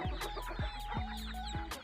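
Chickens cluck and squawk inside a coop in a run of repeated, fairly close calls, with a steady tone running underneath.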